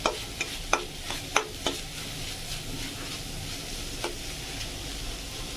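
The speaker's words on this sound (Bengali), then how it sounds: "এবার এটাকে দিয়ে ভালো করে একদম নাড়িয়ে চাড়িয়ে সুন্দর করে ভাজবো এটাকে" Coconut mustard prawns frying in a pan with a steady close sizzle, broken by a handful of sharp scraping stirs early on and one more near the end.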